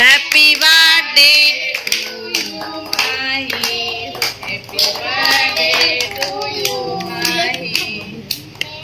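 At a child's home birthday cake cutting, loud overlapping voices, including a child's, fill most of the stretch, with bursts of hand clapping mixed in rather than standing alone.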